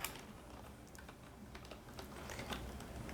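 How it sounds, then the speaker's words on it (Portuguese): Computer keyboard typing in quiet, faint keystrokes pattering irregularly over a few seconds with a slightly firmer press near the end, no voices. "Vou dar um Enter."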